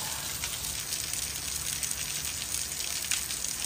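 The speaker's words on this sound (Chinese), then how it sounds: "哇，这一天的暴雨这怎么弄？" Heavy rain falls steadily during a cycling trip through Guangdong, a dense, even hiss of downpour with a few brighter drop splashes, continuous and fairly close, with no voices.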